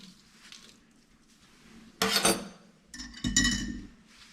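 Dishes are washed by hand in a sink, with two short bursts of clinking and clattering against a quiet background and no voices.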